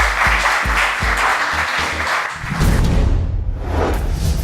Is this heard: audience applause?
yes